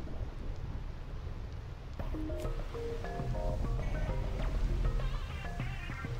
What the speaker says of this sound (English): Yep, it's raining. It's lightning. It's thundering.